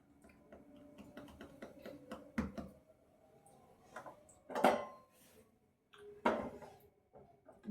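Scattered clinks and clatters of dishes, pots and utensils being washed, with a few louder metallic knocks between quieter rattles and no talk.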